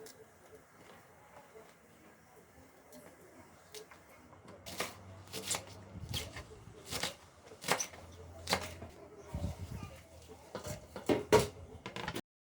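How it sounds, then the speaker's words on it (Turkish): A knife chops hot peppers on a board for Uşak-style tarhana, giving a run of sharp, irregular strikes that grow louder and more frequent toward the end over a low room hum. "Şimdi acı biberlerimi doğruyorum."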